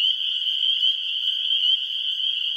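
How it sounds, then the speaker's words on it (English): A marsh chorus of frogs, spring peepers and leopard frogs, rings out as a steady, piercing high trill, continuous and loud, with no voices. "Got leopard frogs, evil chuckling on either side of me."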